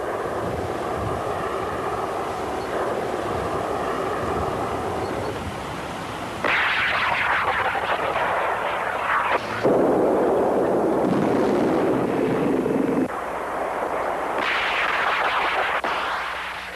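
An anti-tank missile is fired from a wire-guided launcher with infrared tracking, a loud roaring blast and rushing whoosh that shift in intensity over many seconds, sounding close and sustained.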